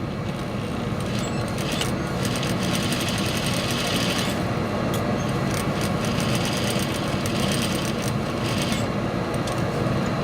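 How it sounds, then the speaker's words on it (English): A sewing machine back-stitches a dart in fabric, its steady rapid needle chatter running loud and continuous throughout with brief bursts of quicker stitching. "Put that needle in, do a small back stitch."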